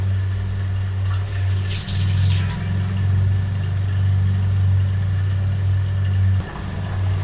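Water splashes briefly into a pot, a short rushing pour over a steady low hum that continues throughout.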